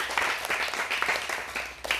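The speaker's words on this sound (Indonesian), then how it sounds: "Tepuk tangan buat Tuhan kita." Audience applause during an orphanage visit, a steady close wash of many hands clapping that holds for the whole two seconds.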